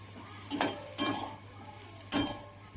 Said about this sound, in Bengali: তো জাস্ট এটা সবজিটা নেড়ে